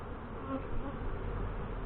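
Honey bees buzz steadily from an open hive during an inspection after robbing, a dense close humming drone that persists throughout with no talking.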